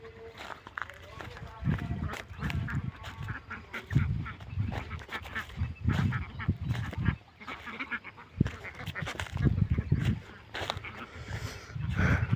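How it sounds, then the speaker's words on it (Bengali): Ducks out in a field give loud, repeated honking quacks in rapid bursts, close by, with a person talking over them. "ঘুম থেকে উঠেই নাস্তা করার আগে কিছুক্ষণ হাঁসকে খাওয়াই"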